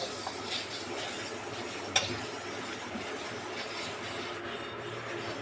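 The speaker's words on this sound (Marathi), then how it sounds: "थोडं यावर विम लिक्विड घालते आता घासणी घेऊन मी याला घासून घेते" An aluminium kadai is scrubbed with Vim liquid and a scrubber, a continuous close rubbing and scraping with a faint clink near the start.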